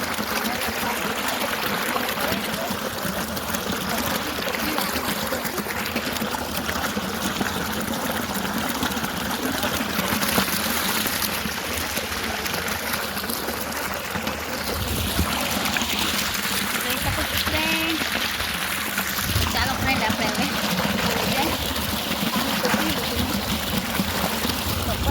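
Water runs steadily through an irrigation channel in a farm field, a continuous close trickling and splashing flow that lasts throughout.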